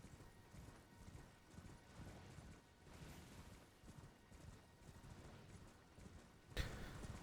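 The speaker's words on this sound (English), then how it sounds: "Running on the horse." Horse hooves galloping in Elden Ring, a steady rapid clip-clop rhythm running throughout, close and clear with a brief louder burst near the end.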